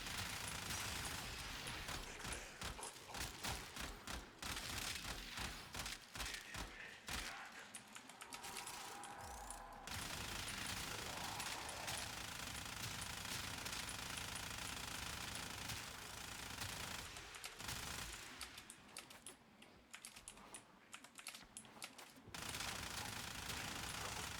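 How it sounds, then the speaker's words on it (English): Rapid submachine gun fire from the video game Warframe, played as Loki Prime, with dense bursts of shots and mechanical clatter running through most of the stretch, briefly dropping out in places before resuming. "It's like a very mediocre submachine gun."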